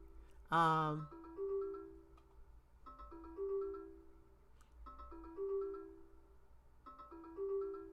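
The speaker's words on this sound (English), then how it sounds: "I feel like it's an alert going off" A Telegram group alert goes off on a device as a repeating electronic ringtone melody of short tonal phrases cycling about every two seconds, fairly faint, opened by a brief louder burst.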